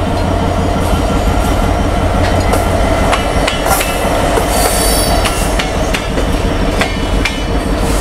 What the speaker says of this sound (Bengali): আর এই যে ট্রেন চলে এসেছে